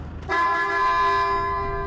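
A car horn sounds near a collapsed tunnel, one loud, sustained honk that cuts in abruptly and holds steady, close and alone.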